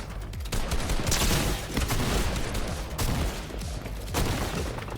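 Sustained automatic gunfire sprays in a Fortnite Reload match, rapid overlapping shots in bursts at moderate volume with no talk.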